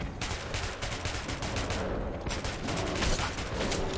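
Continuous rapid gunfire from a weapon in the Metro 2033 video game, a dense, loud, unbroken rattle of shots lasting several seconds.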